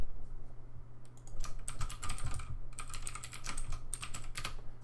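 Typing on a computer keyboard during a WinFrame install in VirtualBox, with rapid close bursts of key clicks separated by short pauses over a steady low hum.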